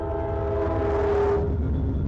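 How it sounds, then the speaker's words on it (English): A train passes close by on nearby tracks, its horn sounding a loud sustained tone over the low rumble of the wagons, the horn fading out toward the end while the rolling noise continues. "Just ignore the train."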